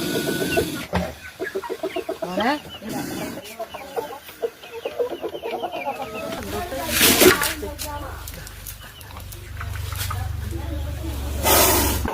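Chicks cluck and chirp close by while people talk over them, with a steady low hum joining partway through.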